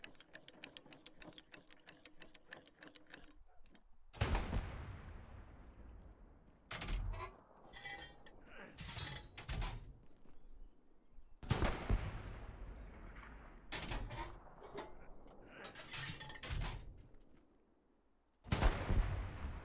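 Artillery firing during a fire mission in the World War II game Hell Let Loose: several loud, booming shots with long rolling decay, spaced irregularly, with fainter rapid distant gunfire at the start.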